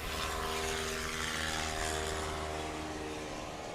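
A propeller airplane on a landing approach at a short takeoff and landing (STOL) competition in the Appalachian Mountains, with a steady, loud, continuous engine drone and broadband wind rush and no clear change across the moment.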